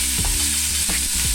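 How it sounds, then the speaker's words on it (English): Onions and garlic sautéing in a pot for homemade vegan ramen: a steady, close sizzle with several scraping stirs of a utensil against the pot, no voices. "We're gonna saute all of these until they're super limp, like you want the onions to be transparent"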